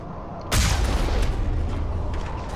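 In Mass Effect, a sharp sniper shot cracks once over a steady background rumble, followed by a sustained low boom and rumbling debris that lasts to the end.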